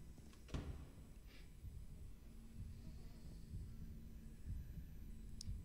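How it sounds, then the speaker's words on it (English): A heartbeat in the video game Boris and the Dark Survival, faint, low and throbbing, steady under a dull background hum, with no talk over it. "My heartbeat."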